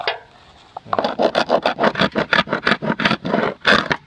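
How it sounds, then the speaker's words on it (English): Old, cracked, peeling paint is scraped off wood in a series of rhythmic, close rasping strokes, about a dozen in quick succession after a brief pause. "So I'm up here scraping."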